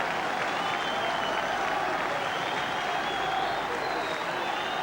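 Rugby league crowd at St Helens applauding a try in a Challenge Cup match against Featherstone, a sustained wash of clapping and crowd noise that holds steady throughout.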